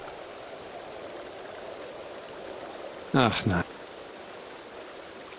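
Endless fresh mountain spring water runs in the fantasy video game Satinavs Ketten as a steady, even rushing stream throughout, with a short spoken exclamation breaking over it midway.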